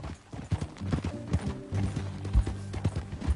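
Horse hooves clip-clop in Red Dead Redemption 2, an irregular run of close, hollow knocks over a low tonal background.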